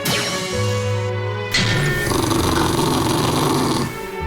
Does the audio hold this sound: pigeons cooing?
no